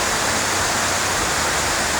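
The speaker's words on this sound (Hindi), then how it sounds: "लगभग 300 से 500 फीट ऊपर से पानी ये गिरता हुआ।" Vasudhara waterfall near Mana, about 300 feet high, roaring as a dense, steady broadband rush of falling water, loud and unbroken.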